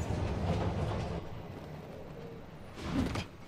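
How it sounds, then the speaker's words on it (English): Subway train rumbling into a station in the Spider-Man: Miles Morales video game, a steady mid-level roar with a louder swell of rattling near the end. "Please stand clear of the approaching train."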